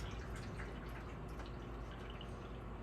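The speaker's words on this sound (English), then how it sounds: "I'm just going to go ahead and pour my hot water here" Hot water pours steadily into a pan with a continuous splashing, bubbling rush, close and even throughout.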